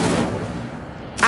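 In Hogwarts Legacy, an Incendio fire spell goes off as a booming whoosh that rolls and fades, followed by a second sharp burst right at the end.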